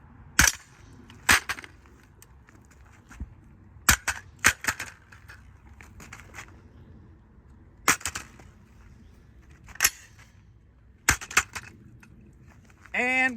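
A rifle fitted with an optic is dropped on its buttstock on a hard surface, producing a series of sharp, loud impact clacks and rattles at irregular intervals, close by with quiet background between hits.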